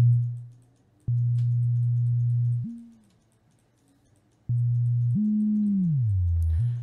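Pitch-bent synth tones from a Moog Model 15 iPad app played through the ribbon controller: steady low notes repeatedly switching on and off, with short upward swoops and a slow downward glide, isolated with quiet gaps between.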